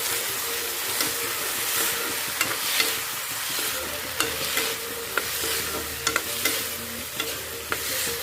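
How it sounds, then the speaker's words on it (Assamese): Boiled chickpeas and potatoes fry and sizzle in a pan on a gas stove, with a steady hiss under repeated scraping and clicking stirring strokes and no talking. "এতিয়া ইয়াত মই বইল কৰি থোৱা বুট আৰু আলুখিনি দি দিছোঁ। এইখিনি অলপ টাইম ভাজি ল'ম ভালদৰে মই।"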